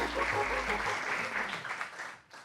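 An audience at a live festival recording claps in a dense burst of applause that holds steady, then thins and fades out toward the end, with faint voices underneath.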